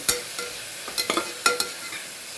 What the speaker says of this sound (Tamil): வெங்காயம் போட்டிருக்கேன் வெங்காயம் வந்து நல்லா வதங்கணும்